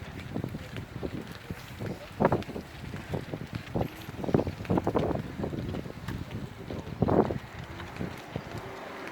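Steady wind rushes and buffets the microphone during a bicycle ride, with rustling and scattered soft knocks continuing throughout.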